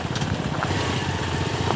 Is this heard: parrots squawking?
no